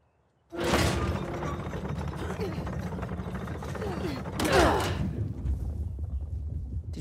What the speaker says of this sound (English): guess we turn this crank and see what happens next